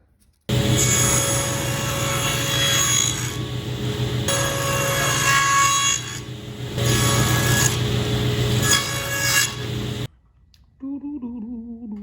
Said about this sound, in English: We'll go over everything with quick sanding